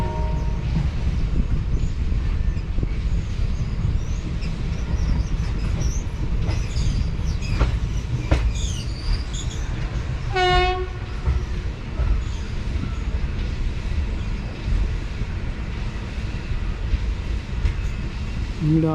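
A train arrives at Needamangalam station with a continuous loud rolling rumble, sparse clicks and a brief high wheel squeal partway through.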